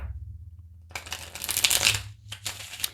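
Tarot cards being shuffled by hand nearby, a burst of riffling and sliding that runs for over a second, pauses briefly, then resumes with a shorter shuffle.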